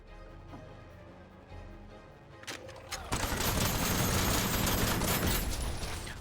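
Gunfire in the video game Aether & Iron, a few scattered shots first, then a loud, dense, continuous burst of firing that fills the second half, with no voices heard.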